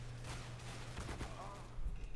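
Gunfire in the CS:GO online shooter game, a few sharp shots in quick succession mixed with game noise, with a person speaking over it.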